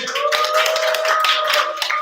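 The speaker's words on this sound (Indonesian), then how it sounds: "Tepuk tangan dulu." A small audience at the closing of a sharing session claps hands briefly, a loose patter of individual claps over about two seconds, with a steady tonal hum running beneath.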